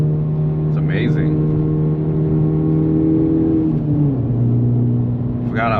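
A stock-form Honda Civic Type R FL5 driving through corners, its engine giving a steady droning note that shifts pitch around four seconds, with brief voices over it.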